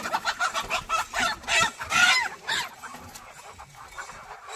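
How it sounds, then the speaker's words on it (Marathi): A rooster clucks repeatedly in short, loud, rhythmic bursts close by, with a brief squawk in the middle, no talking. "सापडला कोंबडा."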